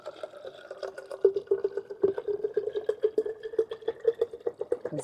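Water poured from a container into the soil of a houseplant pot, a soft steady trickle with light dripping and splashing, close by and quiet, with no talking.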